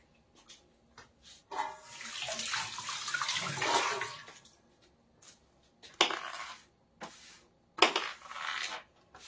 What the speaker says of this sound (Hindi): अब मैं धो के लाती हूँ फटाफट से।